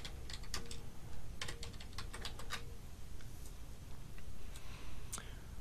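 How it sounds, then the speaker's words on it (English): Fingers type on a computer keyboard in short bursts of quick clicks, with pauses between them, over a low steady room hiss. "let's type a separate line here"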